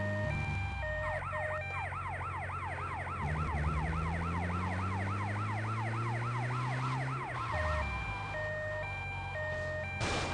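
An ambulance siren in the video game GTA Vice City wails in fast, repeating up-and-down sweeps, loud and steady, over a droning car engine, then switches to a slower alternating two-tone pattern.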